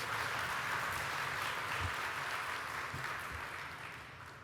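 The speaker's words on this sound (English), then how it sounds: "Once again, please applause for In Her Presence and Claudette." Audience applause breaks out at an outdoor community block party awards ceremony, a steady wash of clapping heard from a distance that gradually tapers off toward the end.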